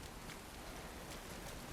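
Steady rain pours in The Last of Us Part II, a dense, even hiss of drops on surfaces that stays constant and close throughout, with no talk.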